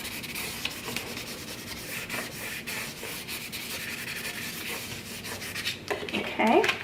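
Cricut vinyl is burnished onto the back of a flipped cutting mat with a tool, making a continuous close scraping rub with a few heavier strokes near the end.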